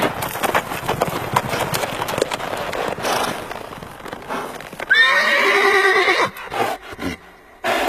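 A horse's hooves clip-clop in a rapid, uneven rhythm, then a loud, close whinny rises and falls for about a second before the hoofbeats return.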